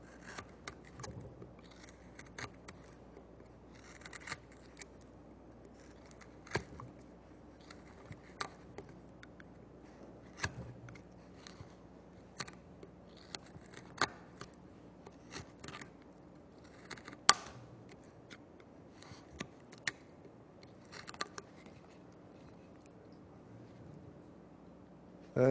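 Small whittling knife making stop cuts in wood, a series of faint, sharp clicks and short scraping strokes at irregular intervals over a quiet background.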